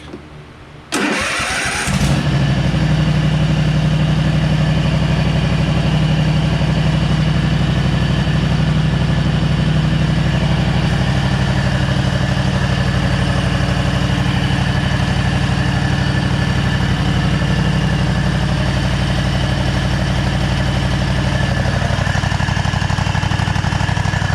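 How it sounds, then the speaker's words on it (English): The engine of a Cub Cadet RZT-54 zero-turn mower cranks and fires, briefly started during an oil change, then settles into a loud, steady idle that rumbles on evenly and close by with no voices. "you want to start up briefly just to circulate the oil throughout the engine"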